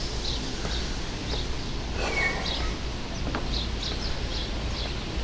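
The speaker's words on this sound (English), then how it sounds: "we've got some African gray parrots over here" Several African grey parrots give short whistles and squawky calls at intervals over a steady outdoor background hum at a zoo, moderately near.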